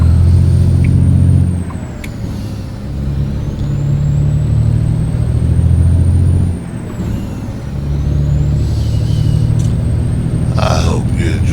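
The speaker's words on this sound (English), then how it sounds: "that's the truck we drive" A simulated truck in American Truck Simulator rumbles with a loud, steady low engine drone that dips and returns, with short bursts of air brake hiss and a voice talking over it.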